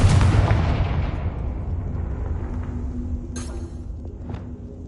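Confringo spell explosion in Hogwarts Legacy: a loud, deep boom that bursts at once and rumbles down over several seconds, followed by two fainter sharp cracks as debris settles.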